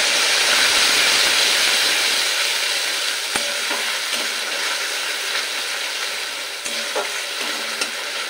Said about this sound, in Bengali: আদা টমেটোর কাঁচা গন্ধ যাওয়া পর্যন্ত মশলাটা ভালো করে কষিয়ে নিতে হবে।